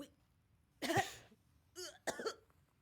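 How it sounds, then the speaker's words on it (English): A woman's dry coughing fit, two or three harsh bursts with a throaty, strained edge, close by and separated by short quiet gaps. "Anisia is bending with a dry cough attack."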